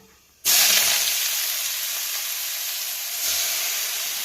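Colocasia stems drop into hot oil where mustard seeds have spluttered, setting off a sudden loud sizzle that holds as a steady close hiss, swelling slightly again near the end.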